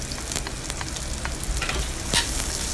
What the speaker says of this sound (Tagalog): isunod na po ang ating sibuyas. Igisa na rin po ito hanggang sa maluto